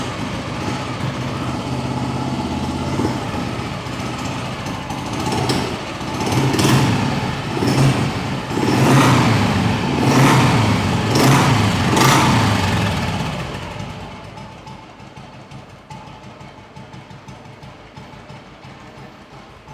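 A vintage motorcycle engine revs hard in a series of loud, rising and falling bursts, then drops back to a quieter, steady idle.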